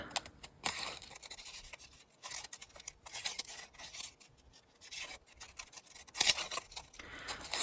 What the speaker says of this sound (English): so then I'm going to cut out this butterfly